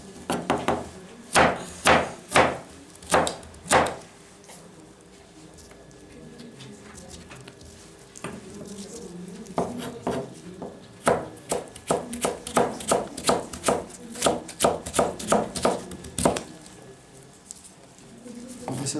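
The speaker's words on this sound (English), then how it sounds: "This chopping." A cook's helper chops on a wooden cutting slab in a kitchen, sharp knife strikes landing in quick irregular bursts with a pause in the middle, close and fairly loud.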